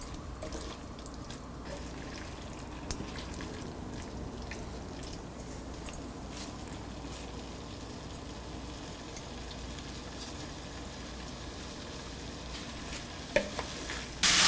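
Liver fries in a pan while being stirred continuously, a dense wet sizzle with scraping and squishing, steady and close throughout, ending with a couple of louder knocks.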